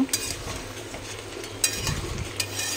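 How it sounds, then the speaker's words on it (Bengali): Meat being sautéed and stirred in a pan, a bright sizzle with a few sharp spatula scrapes against the metal in short bursts, close and without speech. "এখানে দেখো মাংস কষানো হচ্ছে"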